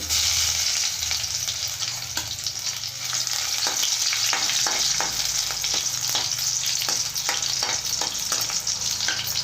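Loud, continuous sizzling of crushed garlic, dried red chillies and spices frying in oil, with repeated clicks and scrapes of stirring throughout.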